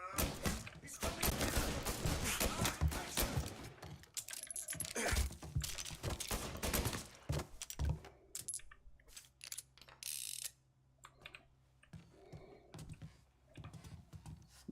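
Guns fire in a 1930s-era shootout in Mafia Definitive Edition: dense, rapid bursts of gunfire for the first half, thinning to sparser sharp cracks and mechanical clicks later.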